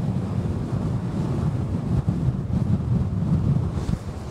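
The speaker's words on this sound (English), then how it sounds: "Thought the wind would move it." Steady wind buffets the microphone on a seaside golf course, a continuous low roar with slight gusting swells throughout and no talk.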